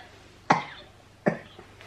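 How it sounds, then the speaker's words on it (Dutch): A person coughs twice, close and clear, each a short harsh burst with a brief tail, spaced less than a second apart in a quiet indoor room. "dat is goed hoesten"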